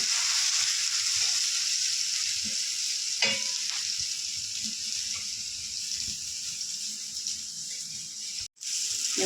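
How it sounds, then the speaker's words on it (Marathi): Banana chips fry in a pan of hot oil, giving a steady close hiss with occasional light stirring clicks and bubbling, fairly loud, and a brief dropout near the end. "आता पलटी मारून झालेले आहेत आता दुसऱ्या साईडने पण तसंच आपण छान छान भाजून घेऊया"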